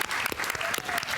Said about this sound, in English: I would like a round of applause for Doozy